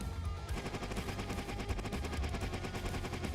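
Rapid, relentless gunfire from the shoot-'em-up video game R-Type Dimensions III, a dense stream of repeated shots with no pauses, harsh and loud throughout.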